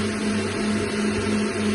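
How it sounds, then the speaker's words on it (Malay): Steady whirring hum of a solar inverter's cooling fan running while charging in a hilltop garden house with a 5 kW solar system, continuous and fairly loud with a low tonal drone and no speech. "Boleh dengar bunyi bising kipas tengah charging."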